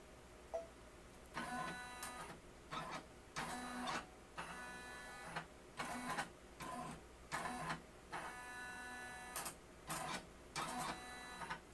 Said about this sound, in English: on my embroidery machine, I'm just going to press trace it